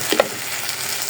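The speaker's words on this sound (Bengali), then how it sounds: "পেঁয়াজ তেলে ভাইজা শুকনা মরিচ দিয়া লাল লাল করে ভাজা, সামান্য পরিমাণে একটু আদা রসুন বাটা দিই, দিয়া তারপর চালটাকে সুন্দর করে ভাজি।" Rice fries in hot oil with onion, dried red chili and ginger-garlic paste, giving a steady close sizzle with a brief stirring clatter near the start.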